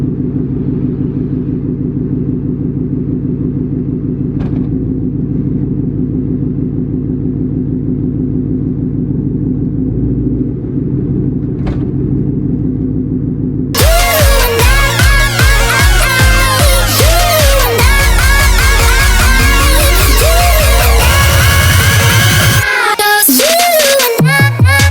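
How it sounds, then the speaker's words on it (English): 2018 Ford Mustang GT with a 10R80 automatic, daily driven, making a quarter-mile drag pass: steady low engine rumble at idle, then a loud, sustained full-throttle roar with rising gear-change sweeps and a brief drop near the end. "Car's really moving out."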